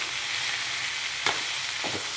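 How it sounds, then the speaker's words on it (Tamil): Curry leaves sautéing in a pan, a steady close hiss of frying oil with two brief stirring scrapes near the end, no voices. "கறிப்பிலை போட்டு கொஞ்சம் நேரம் வதங்கிட்டோன்னு"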